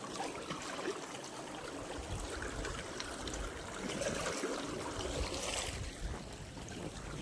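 River water flowing steadily past in an open outdoor setting, a continuous broadband rush and gurgle with soft splashy texture, fairly close and unbroken throughout, no voices.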